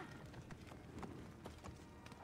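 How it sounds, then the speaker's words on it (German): Horse hooves clip-clop in a quick, steady galloping rhythm in the video game Assassin's Creed Origins, fairly quiet and continuous throughout with a faint background bed. "aber ich will zu meinem Pferd"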